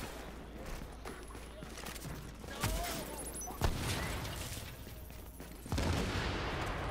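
Shotgun blasts in the video game Tom Clancy's The Division: three heavy, separate booms spaced a second or two apart over a continuous gritty background, with voices talking underneath.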